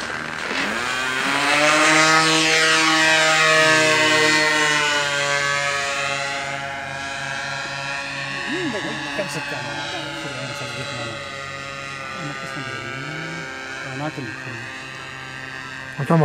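A twin-engine aircraft engine drones steadily and loudly, its pitch sweeping up and down as power shifts. Voices talk over it.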